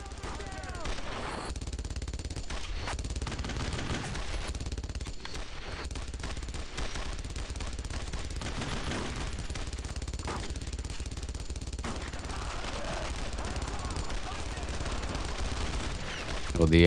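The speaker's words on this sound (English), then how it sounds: "Oh, the MG is right there." Machine gun fire in the WWII shooter Brothers in Arms: Road to Hill 30 rattles in dense, sustained bursts with short pauses, loud and close throughout.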